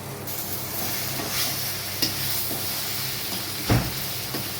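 Half a bunch of coriander is tossed into ivy gourd frying in a pan and stirred in, a steady close sizzle with a few soft scrapes and clinks from the spoon.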